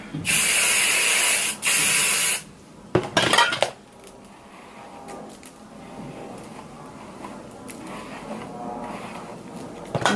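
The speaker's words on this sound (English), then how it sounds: "I'm gonna really spray this down" Two loud, hissing bursts from a dry shampoo spray can sprayed onto hair, close up, followed by a few clinks and soft handling noises in a quiet room.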